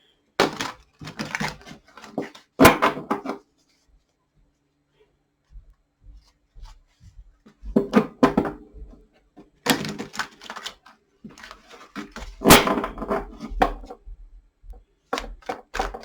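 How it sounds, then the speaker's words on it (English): Tarot cards being shuffled by hand in bursts of quick riffling clatter, each burst separated by brief silent pauses, close and moderately loud. "give me just a second while I shuffle"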